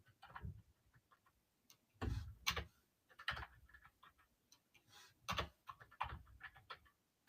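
A computer keyboard is typed on in irregular bursts of soft, close clicks. There are short pauses between the runs of keystrokes. No one talks.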